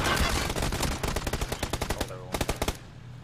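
Rapid automatic gunfire in a video game, a dense burst of loud shots followed by shorter, spaced volleys, while a voice talks faintly underneath.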